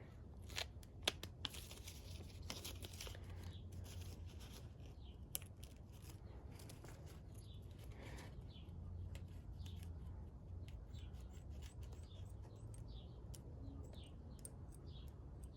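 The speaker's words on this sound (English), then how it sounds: "And cut right along that line." Scissors snip along a marked line on a sheet of material while organizing welding rig consumables, a close, quiet run of small irregular cuts and crinkles with a few sharper clicks early on, over a steady low room hum.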